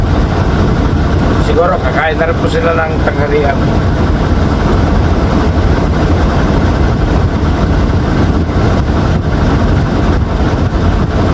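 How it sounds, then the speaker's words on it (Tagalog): A bus engine idles on a rough road stop, a continuous low diesel rumble running the whole time while someone speaks briefly near the start. "May nagbuhay ng makina."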